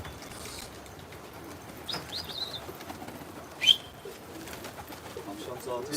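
Pigeons on a rooftop: soft coos and chirps with bursts of flapping wings, one sharp flurry standing out midway over a quiet outdoor background.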